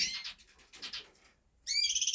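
Raza canaries in an indoor bird room give short, bright chirps and trills, a few close calls separated by brief pauses, with a louder trilling burst at the end.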